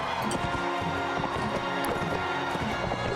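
A horse galloping in the video game Mount & Blade Warband, quick repeated clip-clop hoofbeats running throughout at moderate loudness, close and continuous.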